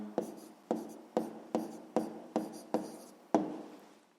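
A pen writes numbers on paper for a sixth-grade math exercise, eight short scratchy strokes in a steady rhythm, close and fairly quiet with no talk.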